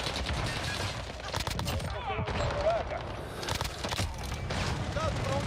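Gunfire from Call of Duty Warzone 2 rattles in bursts and fast volleys throughout the match, with voices talking over the shooting.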